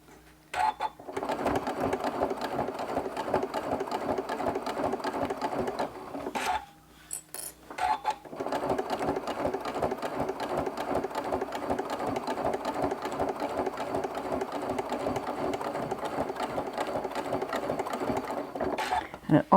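A sewing machine runs steadily, edge stitching around a quilted crumb-fabric mug rug at about a 3.0 stitch length, its close, continuous whirring stitch rhythm broken by one short pause before resuming.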